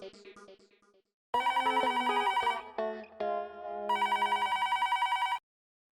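A telephone rings at home, with bursts of bright electronic ringtone pulsing loudly in quick repeated trills after a short faint lead-in, then cutting off abruptly.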